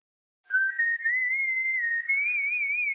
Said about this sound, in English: That means Proto Man's in the game if you hear that whistle.